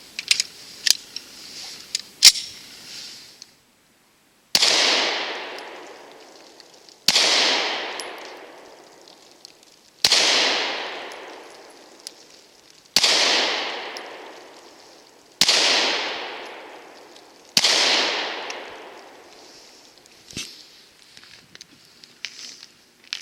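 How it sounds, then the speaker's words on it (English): Glock 43 pistol fired at a shooting range, several sharp, loud single shots spaced a few seconds apart, each with a ringing decay, after a few lighter clicks and clacks at the start. "see what Mrs. MP's first shots were with this little gun"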